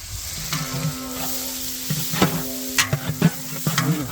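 Big onions frying in coconut oil for a chicken biryani made with Thulasi Ponni rice: a steady hiss with scattered stirring scrapes and clinks, close by, with no talking.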